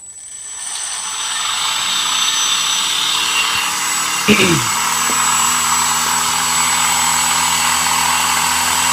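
A combat robot's spinning weapon spins up at 10% throttle, a steady, loud whirring drone that holds throughout, with a brief knock midway.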